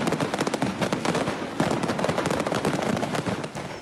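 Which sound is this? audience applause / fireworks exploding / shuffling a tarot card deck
fireworks exploding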